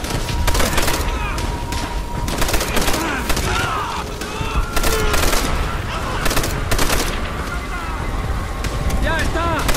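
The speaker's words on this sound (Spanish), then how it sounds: "¡Atentos, muchachos! ¡Siguen disparando!" Sustained gunfire from Call of Duty: World at War on a World War II battlefield, rapid overlapping rifle and machine-gun bursts loud throughout, with shouted voices mixed into the fusillade.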